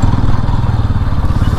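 Motorbike engine on a forest off-road trail, revving steadily and loud throughout with a rough, clattering throb, close up and continuous.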